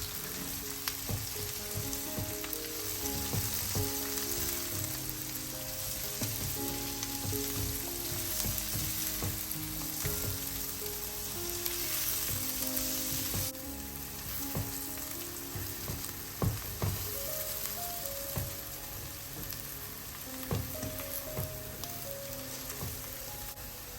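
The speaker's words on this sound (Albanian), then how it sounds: "I përziej mirë të gjithë perimet bashkë për pak minuta." Green pepper, carrot and zucchini hiss and crackle in a pan for a long stretch, stirred now and then with light clicks, while gentle music plays underneath.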